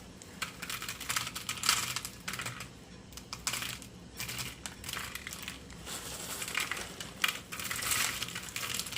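Dry beans from a one-pound bag of 15-bean soup mix trickle from a hand while being sorted, making a steady patter of small, close, hard clicks and rattles in uneven bursts, with no talking.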